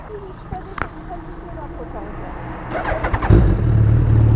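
A motorcycle engine fires up near the end and settles into a loud, steady rumbling idle with a few revs, following quieter roadside background with scattered sounds.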